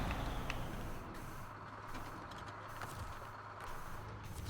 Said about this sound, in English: I'm just gonna back this truck up out of the way.